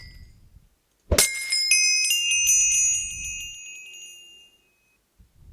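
Sparkly glass-like shatter followed by a long bright chiming jingle of Minecraft's level-up sound, triggered by thrown experience bottles in the video game, ringing for about three seconds and fading, with faint low background noise.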